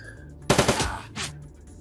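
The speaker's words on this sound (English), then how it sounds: "Do burst fire." Burst fire gunshots in the Shadowrun Dragonfall video game: a loud rapid cluster of several cracks, then a single shorter report after a brief gap, punchy and close.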